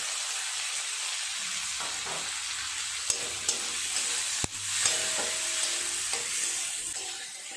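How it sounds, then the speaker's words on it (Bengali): Onion frying with a large tomato and two green chillies in a pan, a steady sizzle broken by several stirring scrapes and one sharp clack of a spoon against the pan. "নেড়ে চেড়ে পেঁয়াজটা খুব ভালো করে ভেজে নেব"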